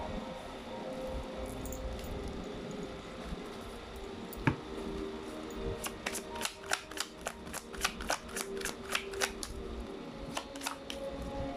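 Tarot cards are shuffled and pulled in a quiet room: one sharp snap, then a quick run of soft, close card flicks and slaps in a rapid irregular rhythm over a faint background hum.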